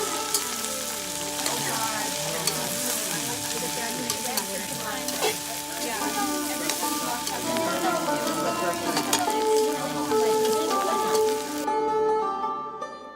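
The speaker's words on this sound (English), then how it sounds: "We sautéed the okra for about 10 minutes." Plenty of okra sautés in hot oil in a large sauté pan, giving a dense, continuous crackling sizzle like rain, with occasional stirring knocks throughout.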